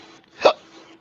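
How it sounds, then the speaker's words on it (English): A single sharp hiccup from an adult, close and clear, rising out of near silence before fading into quiet. "I got the hiccups."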